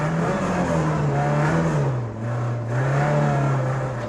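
A Ford Mk2 Escort on semi-slick tyres is driven over snow, its engine holding a steady, loud drone that dips briefly and then climbs again, heard continuously from close by with no talking.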